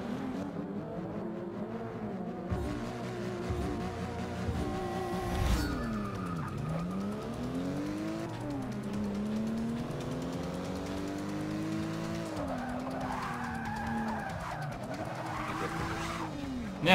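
Race car engines scream and rise through repeated gear changes in Forza Motorsport 6: Apex, with tires skidding and squealing through drifting corners, loud and continuous throughout.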